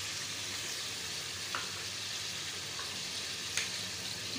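Chicken karhai with garlic-ginger paste and whole spices fries in a pan with a faint, steady sizzle and a couple of brief stirring clicks, no talk.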